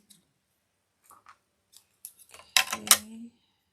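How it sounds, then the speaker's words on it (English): Scissors cut through a foam square in crafting, a few sharp snips close by in quiet surroundings after scattered faint handling clicks. "So I'm going to use this foam square, and I'm just going to cut it."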